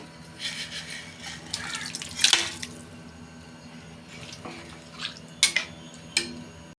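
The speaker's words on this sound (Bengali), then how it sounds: "এবার জল দেবো" Water poured into a pan of cooked-down masala for a paneer curry, splashing and running in a few short bursts, then scraping and stirring against the pan, close and moderately loud.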